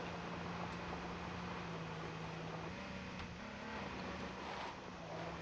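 Car engine in the battle royale game H1Z1, a steady droning hum that holds at an even level throughout with slight shifts in pitch.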